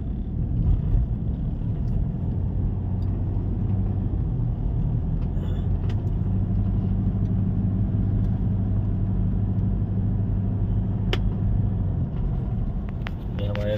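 Steady low rumble of a car travelling by road from Lucknow toward Varanasi on Sultanpur Road, a constant engine and road drone filling the whole stretch with a few faint clicks and brief higher tones over it.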